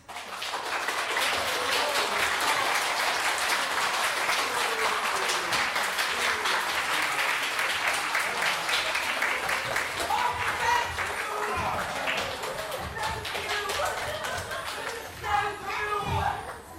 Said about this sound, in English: If you believe, clap your hands.